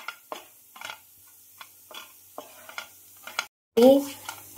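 Butter melting and sizzling in a pan over a low gas flame, with soft intermittent stirring scrapes and a brief louder clatter near the end.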